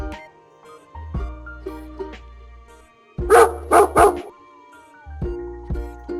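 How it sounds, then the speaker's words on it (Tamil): A dog gives three quick, loud barks close by, with musical tones and other sounds before and after. "டாக் நாய்"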